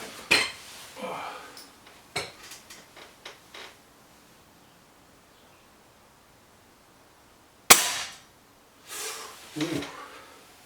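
A BSA Lightning SE air rifle fires one sharp, loud crack partway through, preceded by a series of small mechanical clicks and handling knocks, with quiet stretches and faint voices nearby.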